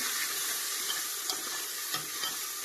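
Spoon stirring a simmering chana dal and spinach curry seasoned with red chilli powder, turmeric and salt, a dense steady bubbling sizzle with a few soft scraping knocks, close up and without speech.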